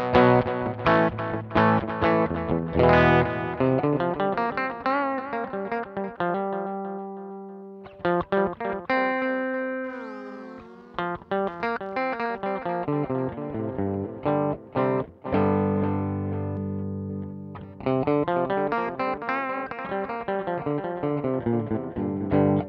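Electric guitar through a Tech 21 Fly Rig 5 v2 pedal with the Plexi drive switched off and delay on, playing runs of rapid notes and sustained bends whose echoes trail behind, loud with brief pauses between phrases.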